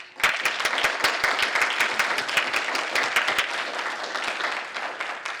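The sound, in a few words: audience applause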